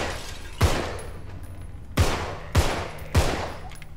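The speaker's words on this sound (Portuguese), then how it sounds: "Falho tanto tiro, Jesus." Four sharp gunshots in the video game Contagion ring out at irregular intervals, each a loud crack followed by a brief echoing tail, with quiet hiss between.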